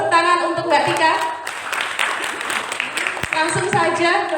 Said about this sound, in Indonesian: Tepuk tangan untuk Mbak Tika.